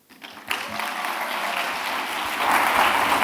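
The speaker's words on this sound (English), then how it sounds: "Another round of applause for Dr. Osano." Audience applause fills a hall at a closing ceremony after a speech, rising sharply and holding as a broad, steady wash of clapping that swells slightly louder toward the end.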